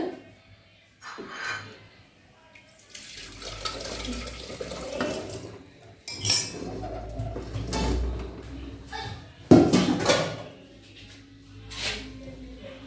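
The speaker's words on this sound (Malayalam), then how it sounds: "നമുക്ക് ഈ രസം മൺചട്ടിയിലേക്ക് മാറ്റാവുന്നതാണ്." Rasam is transferred into a clay pot, with splashy liquid pours, pot and utensil clinks, and scraping bursts separated by short pauses, all up close in a kitchen.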